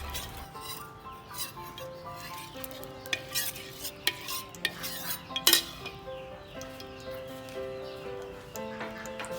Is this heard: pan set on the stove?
yes